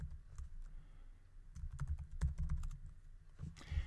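Keys clatter in an irregular burst of typing on a computer keyboard while a password is entered, close and moderately loud, with no one talking.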